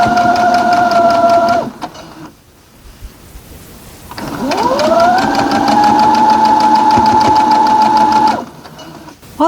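A sewing machine runs loudly and close while stitching a Fat Quarter Shop Spooky Box Boo quilt, two long humming bursts of rapid stitching with a whining motor that ramps up, separated by a quiet pause.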